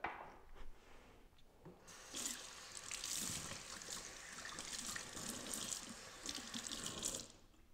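Tap water runs steadily into a container for several seconds, a bright splashing rush with faint rubbing and handling noises before it starts.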